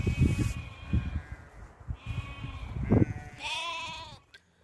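Sheep and goats kept by nomadic Gujjar herders in Kashmir bleat several times in close succession, fairly near and clear over a low background hum.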